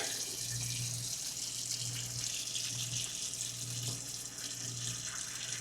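Hot water runs steadily from an RV bathroom sink faucet, a continuous close hiss of flow with a low hum beneath it and no talking.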